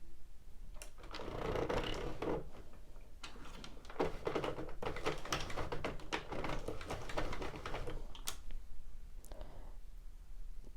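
A Sentro or Addi knitting machine is cranked through rows of yarn for a beanie, producing close, rapid plastic clicking and clattering in bursts, with short pauses between them.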